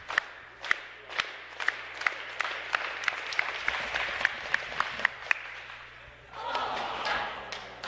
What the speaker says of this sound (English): The crowd is clapping.